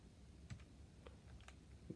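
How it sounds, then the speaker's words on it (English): Keys on a Casio calculator are pressed while entering a BASIC program, producing a few soft, close, irregular clicks against a quiet background. "I moved my cursor so that I'm typing in between them"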